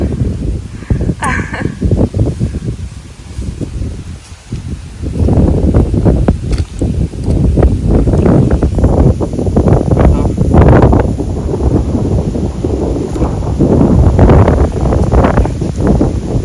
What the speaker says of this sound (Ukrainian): Трошки вітряно.